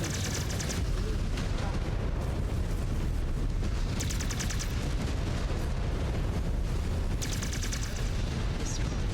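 Airstrike explosions from the sky in a MechWarrior battle: constant dense rumbling blasts and heavy fire roaring loudly across the whole stretch, with combat chatter mixed beneath.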